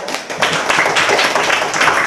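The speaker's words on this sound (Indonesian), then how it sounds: "Kasih tepuk tangan untuk kelompok busur lingkaran." Students in a classroom clap together for a group presenting on circle arcs, a dense, steady burst of close applause filling the whole moment.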